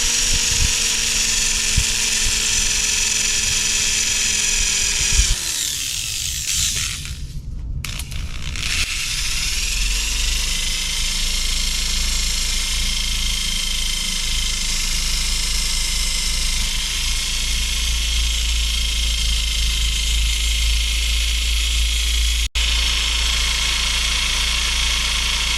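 A buffing wheel loaded with polishing compound runs steadily against refretted guitar frets, a loud continuous motor whine and rub with a brief dip and change in tone partway through as the work is pressed on.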